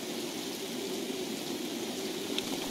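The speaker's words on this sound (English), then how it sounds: "Yeah, the rain is loud" Steady, dense rain falls in Escape from Tarkov, a continuous even hiss filling the scene at moderate level with no voices over it.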